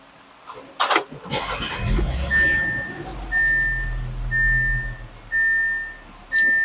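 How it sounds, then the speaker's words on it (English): An Audi A7 engine starts after a couple of sharp clicks, giving a brief rattly crank before settling into a low idle, while a high electronic chime beeps at regular intervals over it. "Had a little rattle at start up there."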